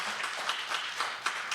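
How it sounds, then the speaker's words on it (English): Brief, moderately loud audience applause during a talk on immigration, a soft steady patter of clapping with no voices over it. "I got an applause from that"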